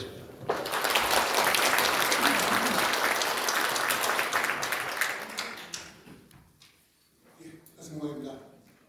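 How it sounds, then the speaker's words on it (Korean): Audience at a public history lecture gives a big round of applause to welcome the speaker, loud and dense for about five seconds, then thinning out before a voice begins talking. "큰 박수로 강사님을 모시겠습니다"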